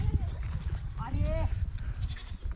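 A goat bleats once, briefly and at mid distance, during a village cricket match outdoors, partly masked by people talking and ambient noise.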